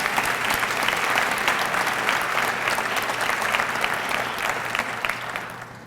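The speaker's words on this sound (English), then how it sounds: "Big round of applause for our 30-year recipients." An audience at a school district employee retirement and recognition ceremony claps for 30-year honorees, a steady, dense round of applause held for several seconds before thinning out at the end.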